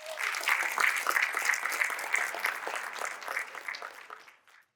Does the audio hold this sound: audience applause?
yes